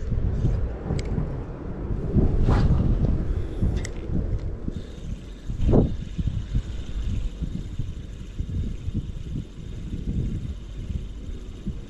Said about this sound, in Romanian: o rafală de vânt foarte puternică